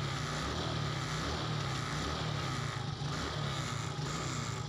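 A Honda Smash 115 motorcycle engine started by key ignition, running steadily at a low idle with a constant close rumble and no pauses or speech.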